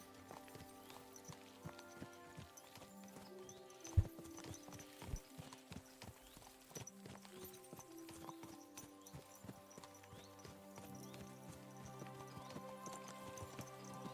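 Horse hooves clip-clopping in the Kingdom Come: Deliverance II video game, a steady walking rhythm of soft hoofbeats over low ambient tones, with one sharper knock near the start.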